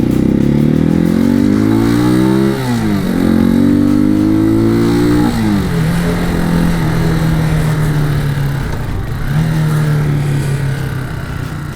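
A Janus Motorcycles Phoenix 250 cafe racer motorcycle being ridden, its engine loud and close as it revs up through the gears with rising pitch, then settles into a steady cruise, continuous throughout.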